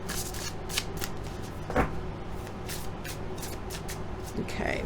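Tarot cards being shuffled by hand at close range, a soft continuous riffling and sliding with a few sharper flicks, quiet against a low room hum.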